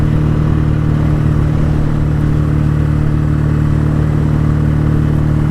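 A BSA A10 Super Rocket motorcycle drones steadily and loudly at speed on the road, its twin-cylinder engine holding a constant throaty hum with wind rush throughout.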